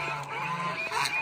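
Lion-head goose honking nearby, a short nasal call repeated over about a second, fairly clear against light background noise.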